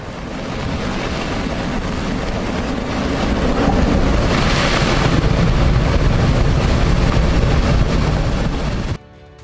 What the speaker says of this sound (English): this ocean decided to give everyone a warm welcome, except this greeting came with tons of seawater